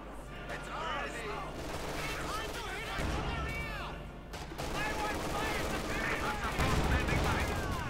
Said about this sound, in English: Command tank continues to blast away.